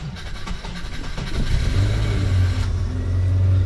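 A car engine running after being started with a powerbank in a parked car, a steady low idle rumble that grows louder and holds close and alone.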